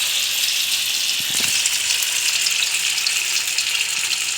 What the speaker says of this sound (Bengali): তেলটা প্রায় গরম হয়ে গেছে, এবার আমি দিয়ে দিলাম।